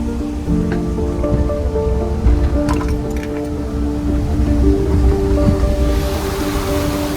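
A river in flood after a cloudburst at Sahastradhara near Dehradun roars as a steady, loud broadband rush of churning water, continuous throughout with faint tonal hum layered on top and no speech.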